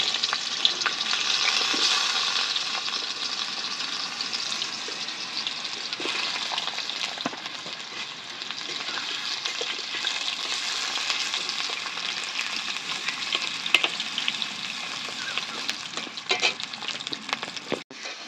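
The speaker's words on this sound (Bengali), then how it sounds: "2 রকম আলুই আমি একসাথে ভেজে নেব।" Two kinds of potato frying in hot white oil in a wok for shukto, a dense continuous sizzle and crackle heard up close for a long stretch, with occasional faint stirring clicks.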